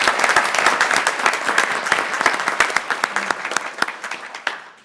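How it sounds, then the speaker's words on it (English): Applause from the audience at a Mount Pleasant town council meeting, a loud, dense patter of many hands clapping that holds steady for several seconds before thinning out. "Give her a round of applause."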